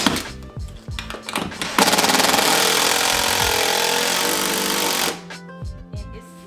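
A power drill drives a 2.5-inch screw into a wood board, with a loud, sustained whirring run of about three seconds between shorter clicks and handling knocks, close to the mic.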